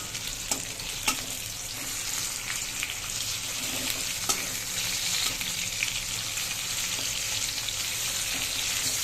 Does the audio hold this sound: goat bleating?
no